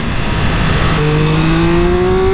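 A Triumph Speed Triple RX motorcycle engine pulls hard and loud, its rising tone climbing steadily under constant wind rush as the bike accelerates.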